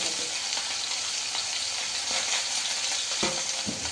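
Sweet potato, potato, raw banana, papaya, drumsticks, eggplant and carrot stirred in a hot pan for sukto, a dense continuous sizzle with occasional spatula scrapes, close and loud, without speech.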